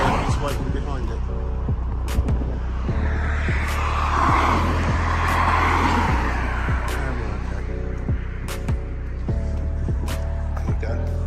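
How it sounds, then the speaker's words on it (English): A large lorry passes on a main road in snowy Hertfordshire countryside, followed by a steady stream of fast cars whooshing by one after another, loud and near, with a constant low rumble underneath. "Great lorry came, followed by fast moving vehicles waiting behind it."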